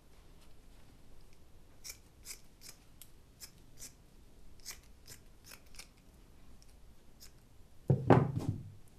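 Scissors snip through material for a DIY Mexican-themed centerpiece in a series of crisp, quick cuts, close and fairly quiet, followed by a louder rustle of handling near the end.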